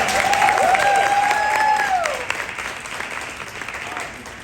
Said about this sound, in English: Give her a hand clap